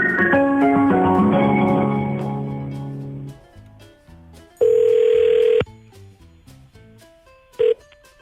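A telephone rings in a quiet indoor scene on a windy evening before a typhoon: a loud, steady electronic tone in one long burst, then a shorter second burst, following some fading musical tones at the start.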